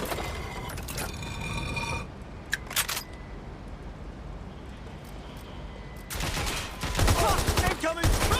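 Gunfire in the video game Watch Dogs: Legion, crackling volleys at the start and again near the end, with a sharp lone shot in between over a steady game bed.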